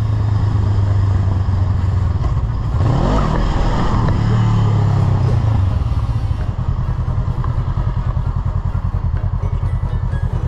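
Motorcycle exhaust revving hard inside a road tunnel, loud and close with a booming echo, rising through a strong surge in the middle before settling into a steady rumbling drone.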